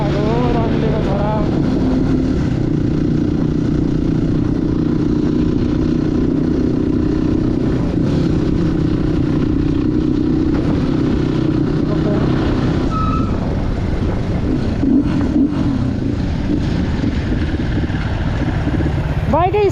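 A motorcycle engine runs roughly with a steady low drone and uneven surges on a ride toward Kathmandu, with voices talking over it throughout.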